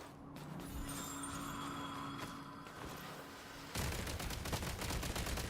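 Shooting with cryo in Genshin Impact produces a rapid, crackling burst of game effects that jumps louder partway through, dense and continuous after a quieter lead-in with a faint steady tone.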